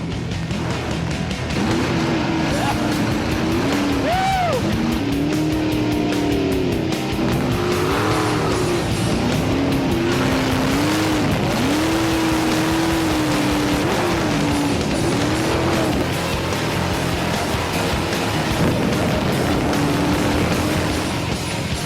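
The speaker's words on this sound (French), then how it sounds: "Jesse exploite les 550 chevaux du Big Block marinisé." Deep, loud roar of a 550-horsepower marinized big-block engine in a jet boat car, holding steady throughout, rising and falling in pitch as the throttle changes, continuous and close.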